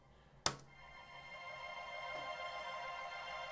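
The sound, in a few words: synth pad sound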